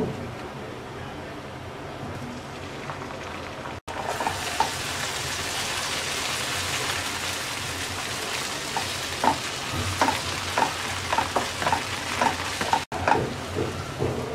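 Garlic frying in oil with mustard paste for a sweet olive pickle makes a loud, continuous sizzle and crackle, with stirring scrapes and brief pops growing busier toward the end.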